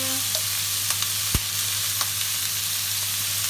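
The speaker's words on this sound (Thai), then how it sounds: "ผัดหมูให้มันสุกก่อนนะค่ะ ผัดไปเรื่อยๆ จนกว่าหมูจะสุก" Pork belly sizzles as it is stir-fried in a pan for basil pork, a constant bright frying hiss with a low hum underneath and a few sharp knocks and scrapes from stirring.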